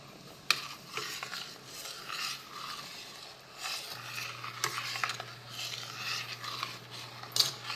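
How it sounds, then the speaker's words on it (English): A spoon stirs rice in a pot of rapidly boiling water on a stovetop, giving soft scraping and clinking strokes over a steady bubbling hiss, with a couple of sharper utensil knocks against the pot. "So when you stir it, you can notice that it'll still be boiling."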